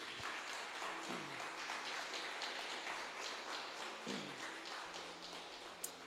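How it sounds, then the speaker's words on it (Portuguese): A church congregation applauds loudly for Jesus during a service, a dense, steady wash of many hands clapping that holds for several seconds at moderate distance with no voices over it. "aplauda bem forte a Jesus"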